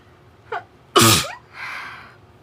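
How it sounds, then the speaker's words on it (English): A single sneeze bursts out close and loud, a brief sharp intake leading into the explosive sneeze and a trailing exhale, with no one talking during it. "I'm going to sneeze here in a minute."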